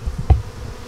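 Honeybees buzz around a hive mating nuc during an inspection, a single brief, close buzz flaring up over faint background hum, with no talking.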